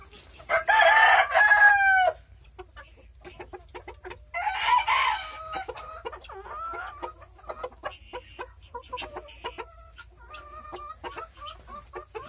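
Chickens cluck around a rooster at an ornamental poultry farm with black hens and white silkies; two loud crows open the clip, then scattered clucks and calls continue at moderate distance.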